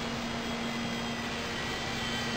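Small E-flite Blade mSR radio-controlled helicopter flying fast in calm weather, giving a steady, even electric whine with a constant tone, loud and close throughout with no pauses.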